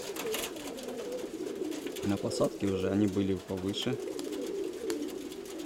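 Pigeons coo in a few soft, low, rounded notes in the middle of the stretch, with someone talking over a windy outdoor background.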